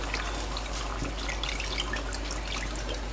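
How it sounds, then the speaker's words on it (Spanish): Cooking water from boiled pork trotters is poured over a salted layer of meat in a pot, giving a soft, steady trickle and splash of liquid that stays fairly quiet and close throughout, with no voices. "cubrimos con el agua de la cocción de los pies de cerdo"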